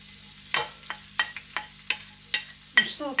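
Sliced onions frying in hot oil in a pan, a quiet sizzle broken by a series of sharp, evenly spaced stirring clinks and scrapes, close and without talk.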